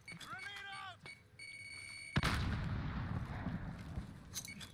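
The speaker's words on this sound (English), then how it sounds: "Grenade out!" A grenade explodes in the Warzone video game: a sudden loud blast follows earlier electronic beeps and tones, then a long rumbling roar of debris and noise.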